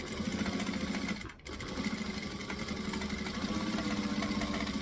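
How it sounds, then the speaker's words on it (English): Sewing machine stitching and back stitching fabric, a fast rhythmic mechanical whirring that stops briefly near the one-second mark, then resumes at the same close, steady pace. "So again, we're going to stitch and back stitch."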